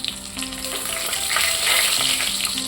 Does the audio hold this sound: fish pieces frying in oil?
yes